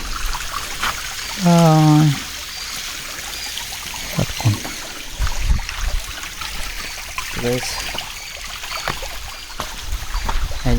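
Water falling at Satkunda waterfall makes a steady rushing wash throughout. People talk nearby, and a brief loud tonal honk sounds near the start.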